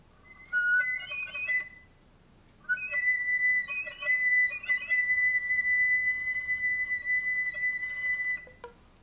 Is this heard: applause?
no